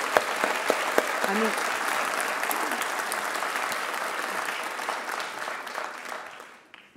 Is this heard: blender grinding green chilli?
no